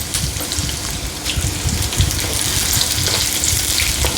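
Dried red chillies and mustard seeds fry in coconut oil alongside thinly sliced okra, giving a steady, close, crackling sizzle with scattered pops throughout and no voices.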